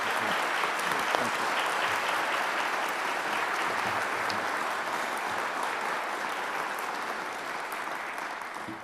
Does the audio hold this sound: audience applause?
yes